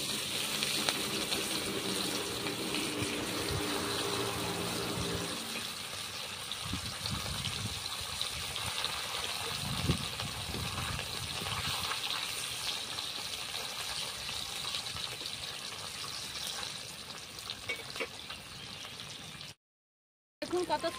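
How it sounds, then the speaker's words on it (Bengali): Rohu fish pieces rubbed with salt and turmeric hiss and sizzle as they are laid into hot oil, a steady close frying sound that carries on unbroken with no talk over it. "তেলের মধ্যে মাছগুলো দিয়ে দিচ্ছি।"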